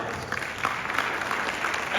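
Audience applause at a motivational business talk by a diamond leader, a steady wash of many hands clapping for about two seconds at moderate level, with no voices on top.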